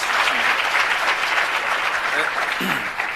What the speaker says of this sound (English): Let's give you another big round of applause.